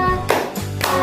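Children clap their hands in time while singing a patriotic song in a classroom; three clear bursts of claps with quieter gaps between them.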